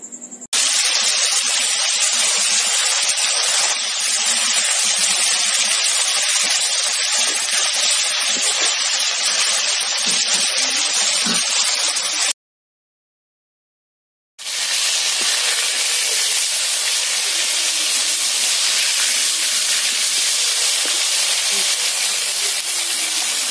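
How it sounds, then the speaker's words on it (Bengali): Fish frying in oil on a clay stove gives off a loud, steady sizzling hiss. It breaks off in a brief silence and then resumes just as strongly. "এবার মাছ ভেজে নেব।"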